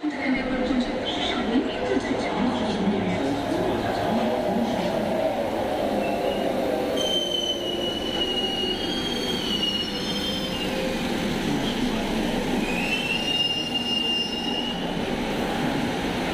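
A metro train in Kolkata rumbles steadily along the rails, with high wheel squeals rising and falling over the continuous roar of the carriage.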